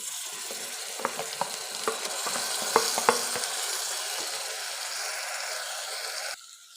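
Crushed ginger, garlic, green chili and shallots fry in oil with a steady, close sizzle, broken by a few sharp clicks of stirring before the sound drops away near the end.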